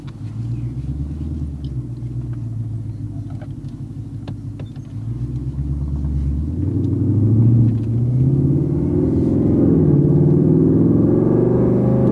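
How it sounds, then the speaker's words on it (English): Deep exhaust rumble from a 2020 Ford Mustang GT doing a flyby, starting as a low steady drone and swelling louder and fuller midway as the car draws near, with no talking. "I want you to do a flyby because I got to see this shit. I want to hear my exhaust."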